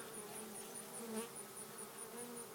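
Honey bees drone steadily around a queen cage at a hive, a constant close buzzing swarm with no pauses and no voices.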